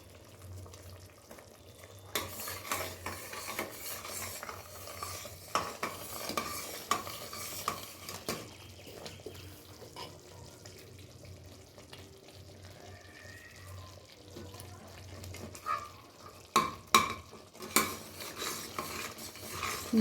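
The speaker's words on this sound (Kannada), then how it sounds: "ಹೀಗೆ ತಿರುಗ್ತಾನೆ ಇರಬೇಕು." A spoon scrapes and stirs rasam powder into tangy puliyogare gojju in a pan, with repeated close metallic scrapes and clinks over a low simmering sizzle, louder knocks clustering near the end.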